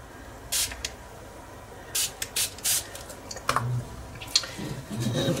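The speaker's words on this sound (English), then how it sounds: "So I'm going to spray a little bit of water." Several short hissing spritzes from a spray bottle, single and in quick pairs, with small clicks between them and no talking.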